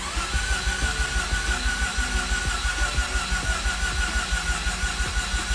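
A flooded Mazda RX8 rotary engine runs close by, with a steady, fast, throbbing idle and a pulsing rumble that continues without change throughout.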